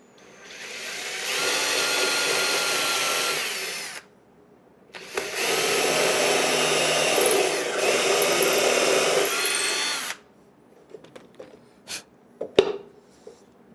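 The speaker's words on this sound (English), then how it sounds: "Countersink bit." A power drill fitted with a countersink bit bores into a wooden birdhouse in two loud whirring bursts separated by a brief pause, then gives way to a few light knocks and handling clatter.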